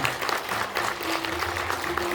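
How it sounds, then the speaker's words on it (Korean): Audience applause at a film festival award ceremony, a dense and fairly loud wash of clapping filling the room, with a faint sustained tone running beneath it. "여러분께서는 큰 박수로 응원의 마음 힘껏 보내주시면 감사하겠습니다"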